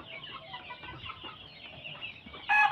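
Farm chickens cluck close by in a short, busy burst of overlapping calls, ending in a sudden louder squawk.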